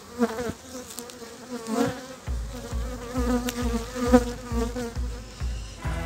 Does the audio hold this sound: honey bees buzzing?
yes